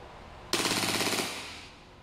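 A WE Glock 35 Gen 3 toy gun fires one full-auto burst of rapid, evenly spaced shots close by, stopping abruptly after about three-quarters of a second and leaving a short fading echo. There is no talking.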